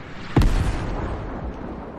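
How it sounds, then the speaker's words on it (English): A single sharp, loud blast in the video game Fortnite, followed by a rumbling roar that slowly fades. No voices accompany it. "I hear explosions."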